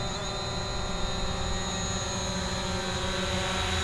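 A DJI Mavic Pro drone flying at full throttle gives a steady, loud, close whine with sharp high tonal propeller lines over constant broadband rotor noise, unbroken and with no talk.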